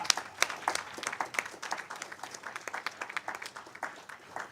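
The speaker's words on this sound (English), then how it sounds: "I'll ask everyone in the room to give the board a round of applause." People in a transit authority board meeting room give the board a round of applause, moderately quiet, with individual claps clearly separable in an uneven, pattering rhythm.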